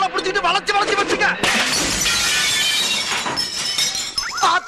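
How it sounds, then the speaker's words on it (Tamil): A television breaking with a loud crash of shattering glass that bursts in over busy background talk and music, followed by a sustained, noisy spray of breaking and scattering glass. "டிவி உடைஞ்சு போச்சு."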